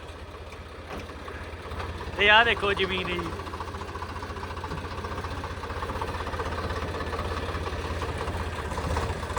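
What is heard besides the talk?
tractor engine running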